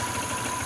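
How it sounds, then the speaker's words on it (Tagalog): A motorcycle engine idles steadily while warming up, a continuous broadband rumble with faint regular pulsing, near and even in level throughout a short stretch. "Sa labas na ako, papainit lang ako ng motor."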